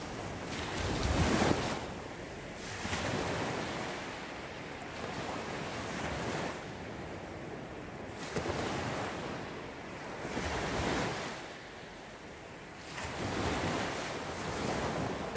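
Ocean waves and surf rolling in at a steady rhythm, each swell building and breaking every few seconds, soft and distant with a wind-like hiss between them.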